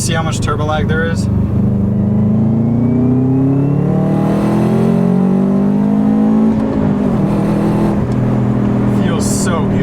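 Under full throttle, a turbocharged Subaru WRX Wagon pulls hard, its engine note rising steadily through the revs with a brief dip at a gear change, loud and close from the cabin, with a short voice near the end.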